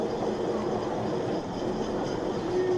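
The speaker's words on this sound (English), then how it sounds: "as we pull into the station, all I can say is, I hope you've enjoyed this trip on the Festiniog Railway" Festiniog Railway train rolling into a station, a steady low rumble of wheels and carriages with a faint squeal of brakes near the end, continuous and moderately loud.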